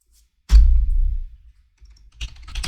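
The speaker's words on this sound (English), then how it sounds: "Let me clear the screen. And now we go to our examples folder," Keystrokes on a computer keyboard as terminal commands are entered, a dense burst of close clicks followed by a pause and a shorter second flurry of taps.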